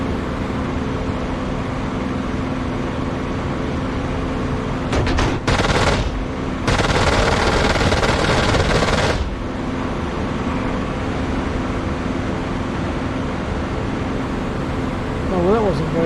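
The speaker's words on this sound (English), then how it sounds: "See, they're firing at me already." Rapid machine gun bursts in a flight combat game, loud and close, two short volleys then one longer sustained burst over a steady engine drone.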